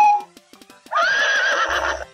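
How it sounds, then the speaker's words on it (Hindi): A horse gives a single loud, drawn-out whinny lasting about a second, preceded by a few soft tapping knocks, heard close and alone. "ये तो घोड़े की आवाज ही है।"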